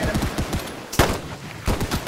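Rapid machine gun fire in the World War I video game Holdfast, a fast rattling burst with a louder blast partway through and another burst near the end, sounding mid-distance.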